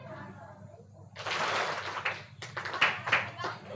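Children clap their hands on command in an online summer camp activity: a few sharp claps stand out near the end, mixed with a broad rush of sound and nearby voices.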